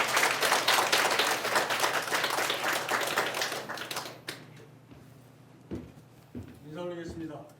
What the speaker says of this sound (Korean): 더 큰 박수로 환영해 주시기 바랍니다.